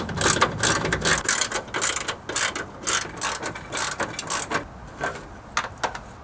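Ratchet wrench clicking steadily as it removes bolts from the exhaust brace on a Nissan 350Z, with fast, repeated pawl clicks throughout, louder and denser in the first second, no talk.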